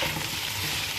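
Chicken macaroni samosa filling being stirred in a pan, a steady close scraping and stirring with a soft sizzle underneath throughout one brief second, no voices.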